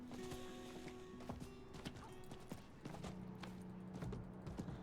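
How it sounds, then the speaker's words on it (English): A horse's hooves pound in a quick, regular clip-clop rhythm as it gallops in Diablo IV, a fantasy action video game, heard fairly quietly beneath sustained background music tones, with no talking. "So we're going to jump on our horse here"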